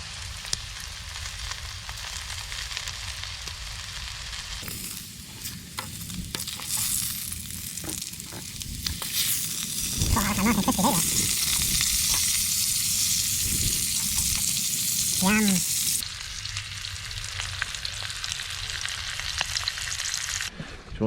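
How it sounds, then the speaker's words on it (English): Abalone (ormers) fry in butter in a pan outdoors on the coast, giving a loud, continuous sizzle that swells midway, with occasional clinks and scrapes of the pan. "That's our ormers in the pan nicely. We're going to crisp these up in that butter."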